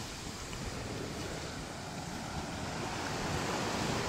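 Sea waves at the beach at Teluk Cempedak, a continuous low rumbling wash of surf blended with wind buffeting the microphone, steady and unbroken, with no voices.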